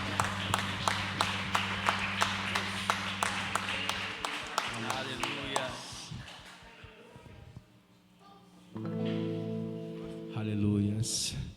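A church congregation claps along during a Bible study service, rhythmic evenly spaced claps over sustained organ or keyboard chords for several seconds, then the clapping fades as the music shifts and a voice comes in.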